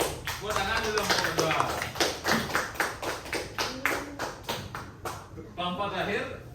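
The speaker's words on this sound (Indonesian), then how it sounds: "Tepuk tangan dulu kelompok" A classroom group claps in a quick, steady run of sharp hand claps for a few seconds, moderately near, with voices talking over and around the clapping.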